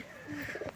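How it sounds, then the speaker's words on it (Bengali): Soft, low cooing of pigeons, a few brief murmuring calls close by with faint outdoor background. "সব পায়রা খেতে চলে এসেছে"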